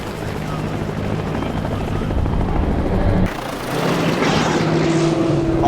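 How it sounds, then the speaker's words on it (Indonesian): An Air Force storm-proof helicopter flies through a storm, its rotor and engine roar loud and continuous with rushing wind and a steady low rumble throughout. "mereka diharuskan melanjutkan perjalanan dengan menggunakan helikopter anti badai milik Angkatan Udara"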